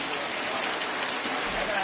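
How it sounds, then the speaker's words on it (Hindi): Heavy rain pours down in Bolangir, a dense, steady hiss of downpour with no break, fairly close and even in loudness. "प्रबल वर्षा झमाझम वर्षा होती"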